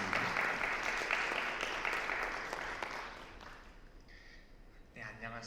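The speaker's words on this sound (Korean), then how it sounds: "박수 한번" Applause from an audience at a university session, broad and steady clapping that slowly fades out over several seconds.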